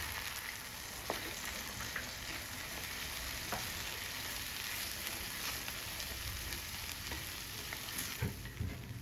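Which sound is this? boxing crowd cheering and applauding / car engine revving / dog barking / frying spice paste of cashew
frying spice paste of cashew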